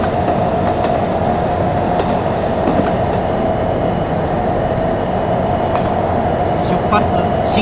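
A Keihan Main Line train running in the Railfan video game, a steady loud rumble of wheels and motor with a sustained whine, continuous throughout with no speech.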